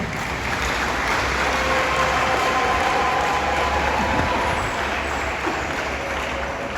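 Broad, steady applause from a large crowd honoring the head of state at a national hero commemoration, sustained and even throughout with a faint hum beneath.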